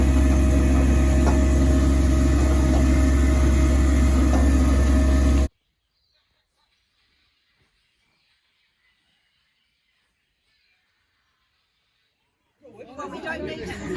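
A coach bus drives through Northland, New Zealand, with a loud, steady low engine drone and some background chatter for about five seconds, then an abrupt cut to near silence before other sounds return at the end.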